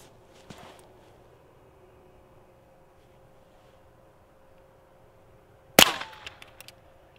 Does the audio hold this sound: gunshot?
yes